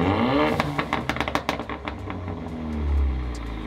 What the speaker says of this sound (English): now we've got sport mode burbles, so you can have a nice burble in sport mode